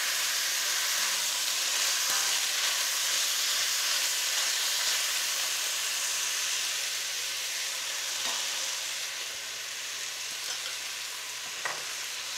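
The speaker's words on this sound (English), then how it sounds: "Now that the beef is all beautifully brown" Beef browns in a pan for beef bourguignon, giving a loud, steady, dense sizzle that runs unbroken throughout, with a few faint clicks from a utensil and no talking.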